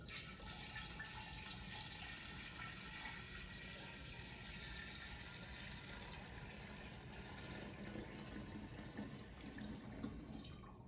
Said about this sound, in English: So now what you want to do is pour everything in.